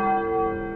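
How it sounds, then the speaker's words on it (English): A large bell struck once in the video game Spider-Man: Web of Shadows, a loud sustained ring with rich overtones that hangs steady and slowly fades across the moment, no voices over it. "Try hitting that bell."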